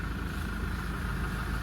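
A Land Rover 110 diesel engine idles in a low, steady rumble with a faint mechanical hum, fairly quiet and unchanging over the short stretch, with no voices.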